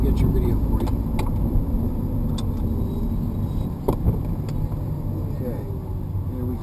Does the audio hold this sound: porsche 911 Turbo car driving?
yes